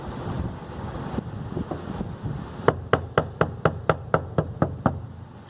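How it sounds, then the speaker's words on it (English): A hammer strikes moistened papyrus strips about ten times in a steady, even rhythm. Each blow is a sharp, close knock, heard after a few seconds of windy background rumble. "we use a hammer."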